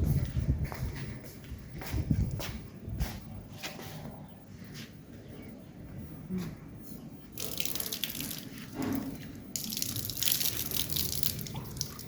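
Tap water runs and splashes into a sink during a face wash, a steady close gush with brief drips, some footsteps and shifting movement, and a louder surge of water near the end.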